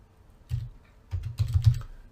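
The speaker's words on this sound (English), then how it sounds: "So I'm going to type UTM underscore content" Keystrokes on a computer keyboard, tapped out in two short bursts with a pause between, close by and fairly quiet, with no one talking.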